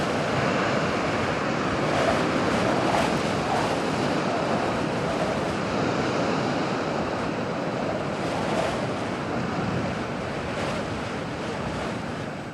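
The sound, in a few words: storm surge waves crashing onto shore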